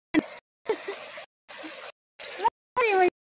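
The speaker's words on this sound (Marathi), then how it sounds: "हिथं आता मी वड्यात धुणार आहे मैत्रिणींनो" Clothes are washed by hand in a village stream, with several separate bursts of splashing water and short silences between them; a voice is briefly heard near the end.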